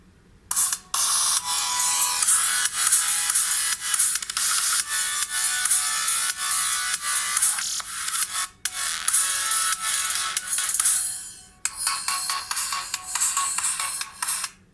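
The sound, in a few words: song played at full volume through LG Aristo phone speaker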